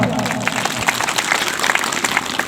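A crowd claps steadily, a dense patter of applause, with some voices mixed in underneath.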